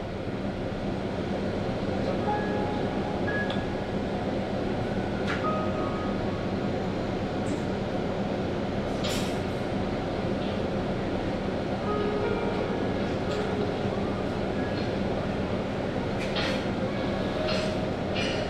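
A JR Shikoku KiHa 185 series diesel tourist train pulls out of Shimonada Station on the Yosan Line, its engine drone and the rumble of the carriages steady throughout, with faint rail clicks and squeaks over it.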